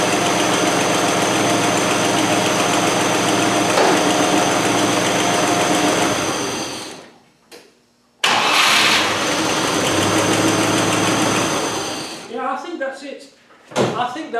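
A NATO V8 engine cranks with a loud, steady rumble, cuts out briefly, then cranks again before settling; the engine noise stays loud and close, with people talking near the end.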